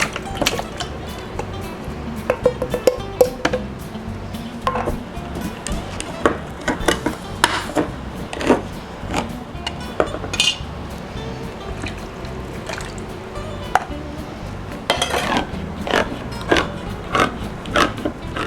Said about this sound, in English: you're just going to dump the whole can in there